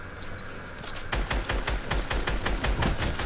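In a video game, rapid automatic gunfire erupts after about a second of quieter ambience, a dense string of sharp, evenly spaced shots that carries on loud and close to the end.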